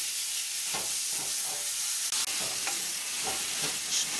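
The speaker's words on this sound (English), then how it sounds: "we're going to start adding the seasoned pieces of chicken to the pot. And as you add it, stir it" Seasoned chicken pieces frying in a curry pot, a dense loud sizzle with spoon strokes scraping the bottom every half second or so, close up and without talking.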